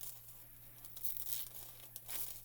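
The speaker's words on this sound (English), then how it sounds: "I'm going to cut a little more foil here." Thin WRMK Quill heat foil sheet crinkling and tearing softly as it is cut, a faint papery rustle with a few brief louder crackles, no voices.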